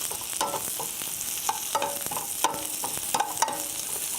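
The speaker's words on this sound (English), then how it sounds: "So I got the butter browned off nice, so that it's going to give these apples some color." Apples caramelizing in browned butter in a pan sizzle steadily, with a broad fizzing hiss and repeated scraping stir strokes roughly every second.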